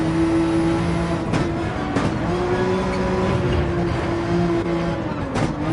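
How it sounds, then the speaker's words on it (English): Race car engine in Gran Turismo 7 on the Nürburgring Nordschleife, a steady, loud, buzzing drone that holds its pitch with small shifts through gear changes, continuous and alone for the whole stretch. "Lovely sound in that car."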